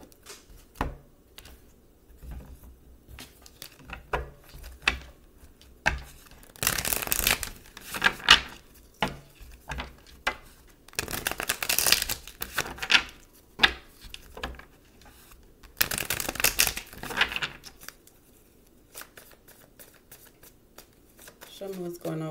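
Tarot cards being shuffled in repeated bursts of riffling and flapping, close and crisp, with pauses between, while a person talks over them.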